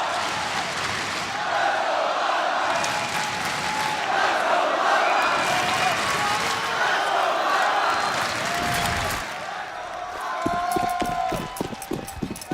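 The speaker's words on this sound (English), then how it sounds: "Listen to this crowd!" A large arena crowd at a Counter-Strike major grand final in Boston roars and cheers continuously, swelling and fading, with commentators talking over it and some clapping near the end.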